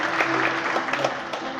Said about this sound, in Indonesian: Berikan tepuk tangan untuk Bapak Tregantoro.